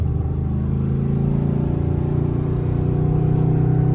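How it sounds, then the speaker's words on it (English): A Dodge Scat Pack car accelerates hard in second gear, its engine roaring loud and steady with a rising drone that holds throughout at close range. "Let me get a little second gear pull."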